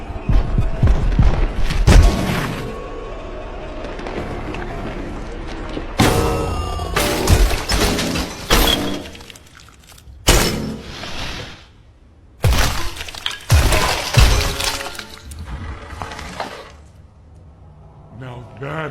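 Video game creature being smashed to bits by a grabbing attacker, heard as loud crashing, shattering and thudding impacts in several bursts, with a voice speaking between them.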